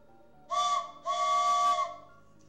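A steam train whistle sounds twice, a short blast and then a longer sustained one, clear and tonal over a quiet background.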